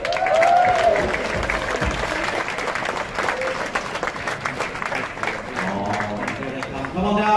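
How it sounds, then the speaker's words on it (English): A crowd aboard the Queen Mary 2 cruise ship, during an equator-crossing ceremony, claps steadily to welcome crew members to the stage, with a voice and crowd noise mixed into the sustained applause. "let's give a big round of applause and welcome to the stage your crew"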